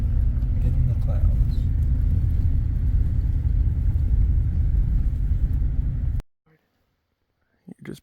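A car rumbles steadily while driving down a mountain ridge peak in Idaho, with a loud, continuous engine and road drone that cuts off abruptly near the end, leaving near silence and a few faint knocks.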